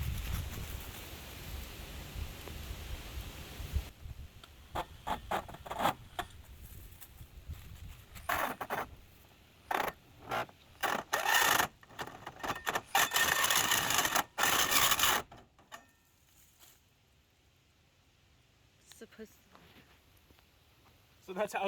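A drill bores a hole through aluminum siding during a radon mitigation system installation, heard as rough grinding bursts that start and stop repeatedly, loud and close, after a stretch of steady background noise.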